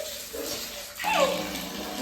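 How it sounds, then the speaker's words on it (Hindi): A young child pours water in a bathroom, first a soft trickle, then a louder splashing pour onto a toilet seat, heard close and alone. "वहाँ से पानी भर भर के अब इस कमोड के ऊपर डाल के आई है"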